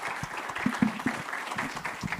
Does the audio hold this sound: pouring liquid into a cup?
no